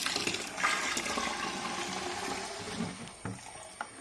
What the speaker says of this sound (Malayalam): ആദ്യത്തെ ബക്കറ്റിലേക്ക് ചേർത്ത് കൊടുക്കണം ഞാൻ ഒഴിച്ചു കൊടുക്കുകയാണ്